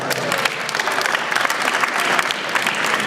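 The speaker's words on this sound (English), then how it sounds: "Everybody give him a round of applause" Steady round of applause from a prom audience after a mentalism act, dense clapping filling the whole stretch at even loudness with no talk over it.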